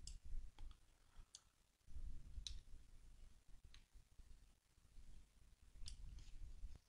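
Computer mouse clicks while orbiting a camera around objects in After Effects: a handful of sharp, separate clicks spread over several seconds, faint and close, mixed with low rustling and handling noise and no clear talk.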